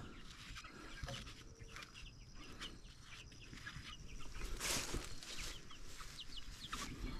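Laying hens in a new chicken coop give soft, scattered clucks and short calls over a quiet farmyard background, fairly faint and picking up slightly toward the end.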